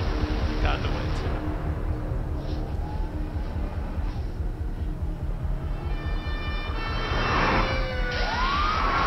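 A wailing fire truck siren in the video game Metal Gear Solid V: The Phantom Pain, rising and sweeping over a dense bed of engine rumble and game noise, growing louder near the end.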